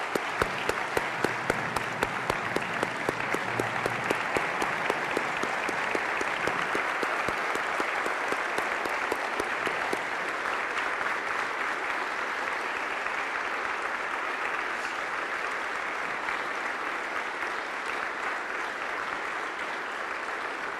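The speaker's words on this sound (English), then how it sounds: "So I'd like to give them a round of applause if you would stand" Sustained audience applause at a Jefferson County, Missouri State of the County address, dense clapping from a large indoor crowd lasting about twenty seconds, strongest early and settling into an even roar.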